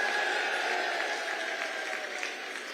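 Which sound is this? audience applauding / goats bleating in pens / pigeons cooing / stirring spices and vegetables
audience applauding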